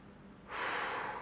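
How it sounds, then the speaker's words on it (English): A single sharp nasal sniff with a runny nose, short and close, breaking a quiet background. "I don't want to have a sniffle all weekend"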